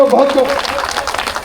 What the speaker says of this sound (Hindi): एक बार बजा दीजिए ताली, आप बजा रहे हैं।